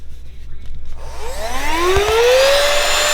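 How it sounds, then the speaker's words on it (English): A small USB-rechargeable table vacuum on a scale-model workbench starts up close by. Its motor whine rises steadily in pitch into a loud, sustained whir, with a couple of faint clicks partway through. "show you my vacuum. The vacuum up the table."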